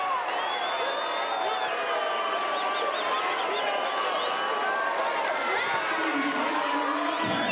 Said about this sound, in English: Crowd here in front of us are celebrating